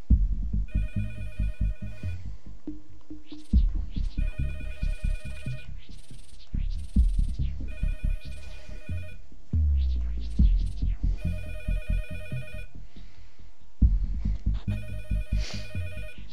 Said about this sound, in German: Da klingelt das Telefon